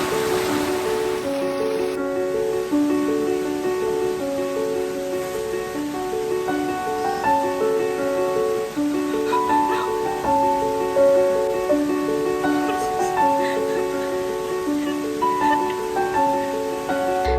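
Steady rushing water from the multi-tiered Mae Kampong waterfall in Thailand fills the background while a melodic music track plays over it throughout, with no talking.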